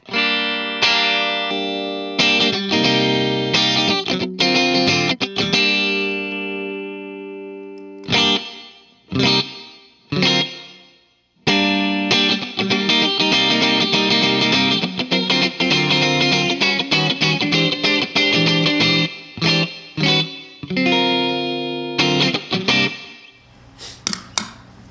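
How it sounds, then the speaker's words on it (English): An electric guitar through a Boss RV-5 digital reverb pedal on its room setting plays chords and single notes with a spacious reverb tail ringing between phrases, steady and loud with no talking. "But here's the room reverb."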